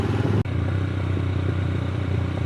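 Motorcycle ridden over loose rock on the Shimshal road, a steady engine drone mixed with rattling clatter and gravel noise, close and fairly loud, with a brief cut near the start.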